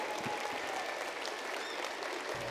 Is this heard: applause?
yes